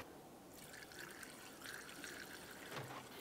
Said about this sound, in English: Continue on by filling it with the proper washer fluid.